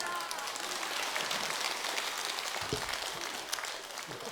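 Temple congregation at Jogyesa claps as a monk finishes his Buddhist dharma talk, a soft, even patter of many hands that fades toward the end.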